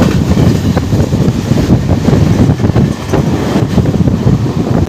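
A Bardhaman–Howrah chord super local train runs alongside the Rajdhani Express, giving a loud, continuous rumble of wheels and carriages mixed with heavy wind buffeting, steady from start to finish.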